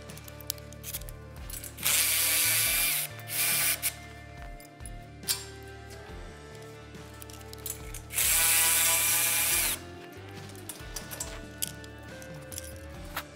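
A wrench with socket ratchets nearby, clicking rapidly as fasteners come off the straps of an Arrowquip Easy Flow Elite adjustable livestock alley panel, with two longer bursts of fast spinning and metallic clatter between them.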